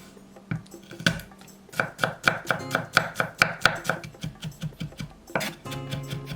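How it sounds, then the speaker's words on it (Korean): A kitchen knife minces three whole garlic cloves on a cutting board, a run of quick, crisp, evenly spaced chops close up, pausing briefly and then resuming, with no talking. "대파 약간은 1cm 두께로 어서 썰고 통마늘 3개는 다져서"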